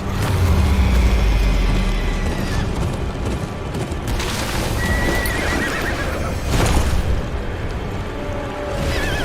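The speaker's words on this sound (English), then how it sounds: "Leave the horses!" Horses neigh and whinny with hooves clip-clopping amid a loud, chaotic battle scene near a river and wall, with heavy low rumbling and crashing throughout.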